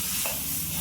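Masala paste being sautéed in a pan for a spicy drumstick (shevga) curry, giving a steady close sizzle with soft stirring scrapes and no talking.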